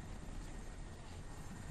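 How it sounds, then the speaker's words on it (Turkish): A helicopter hovers overhead in the video game Crysis, a faint, steady rotor drone with a low rumble that holds evenly throughout. "Helikopter."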